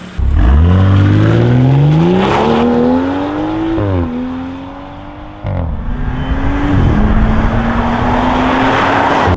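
A BMW X4 M with a 4.0-litre engine pulling away and accelerating hard, its loud revs climbing through gear changes with brief dips between shifts, heard up close and with no talking.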